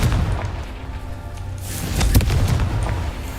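Confringo fire spell explosions in the Hogwarts Legacy video game, a dense continuous rumble of booms and blasts with a stronger burst near the middle, loud and close, no speech.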